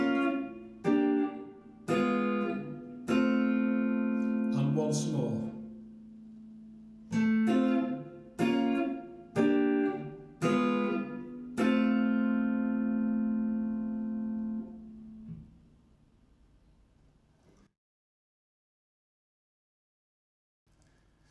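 Guitar triads move chromatically, a series of plucked chords struck one after another, each ringing briefly, ending on a longer sustained chord that fades into silence.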